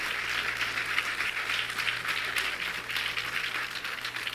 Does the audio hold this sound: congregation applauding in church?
yes